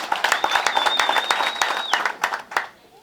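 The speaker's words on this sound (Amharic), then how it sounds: "እስኪ ለዚህ ጌታ ለልታችሁ ጭብጨባችሁ ይሰማ።" A crowd claps steadily at a birthday celebration, close and dense for about two seconds, then trails off into scattered claps. A thin whistle-like tone rides over the applause.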